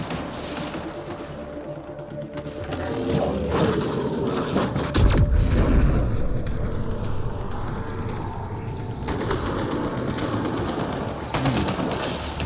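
Gunfire aimed at the player in the Mass Effect: Andromeda video game, rapid rattling shots and mechanical clatter that rise after a few seconds and go on as a continuous loud barrage.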